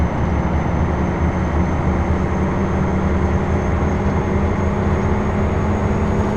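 Heavy truck engine pulling through the gears, a continuous loud low drone with a steady tone and no speech.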